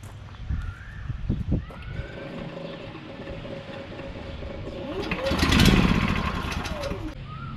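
An expedition truck engine is remote-started with the fuel off, so it cranks without catching. A rising, grinding burst swells midway and then fades, set among faint background sounds.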